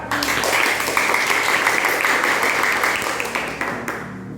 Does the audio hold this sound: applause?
yes